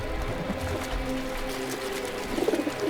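Pigeons cooing while bathing in a river in a town centre, soft low coos over a splashing, watery background, faint and continuous.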